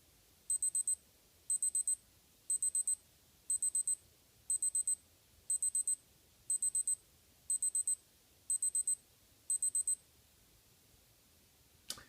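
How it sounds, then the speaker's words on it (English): A Casio G-Shock Mudmaster GSG-100 countdown timer alarm beeps in quick high-pitched bursts, repeating about once a second, ten times in a quiet room. "let you hear what the countdown timer sounds like"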